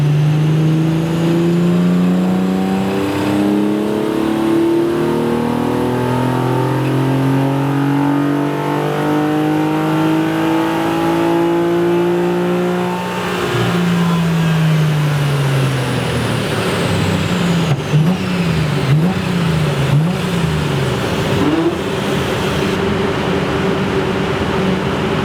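A naturally aspirated Toyota Supra engine on individual throttle bodies revs hard on a dyno, rising in long sustained pulls with climbing harmonics, dropping back, then warbling through quick throttle blips, loud and close throughout.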